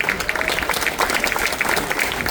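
A stadium crowd applauds to welcome Governor Dan McKee with steady, dense clapping that carries on throughout, with faint voices mixed in.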